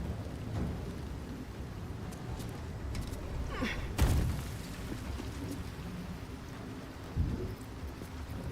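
A lightning storm rages in Baldur's Gate 3, with a constant hiss like rain and two sharp booming strikes, one louder near the middle and a softer one near the end.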